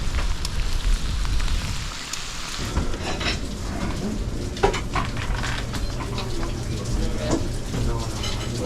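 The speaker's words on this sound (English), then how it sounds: "So Carl and I are riding bikes in the rain up to Shaw's Hiker Hostel for breakfast." Steady rain hisses and patters all around while people ride bikes along a wilderness trail route toward a hiker hostel, a continuous wash of noise close by with faint bird calls and brief speech.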